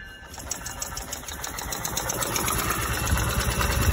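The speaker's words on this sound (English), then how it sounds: "It's spinning the motor over with just me pushing it with one hand." A small 50cc two-stroke motorized-bicycle motor turned over by hand, with a fast, rattling mechanical chatter, rising slightly in loudness as it spins steadily, close by.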